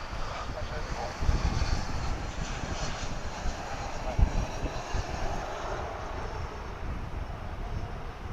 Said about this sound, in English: Here's American Flight 2540 coming in from Omaha. It's an A320